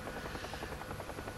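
A helicopter cruising at about 100 knots with a crosswind in the DCS flight simulator makes a steady loud rotor buzz with a fast rhythmic throb, constant throughout and heard without speech.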